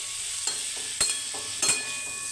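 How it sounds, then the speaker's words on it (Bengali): Vegetables frying with spices in oil, a constant sizzle broken by three short scraping stirs, close and even, with no voices. "সব মশলা একসাথে দিয়ে তেলের মধ্যে সবজিটাকে কষিয়ে নিচ্ছি।"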